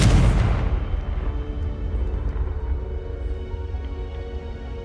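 A Confringo blasting spell in Hogwarts Legacy detonates in a single loud, deep explosion at the start, then rumbles and decays into a long fading low roar.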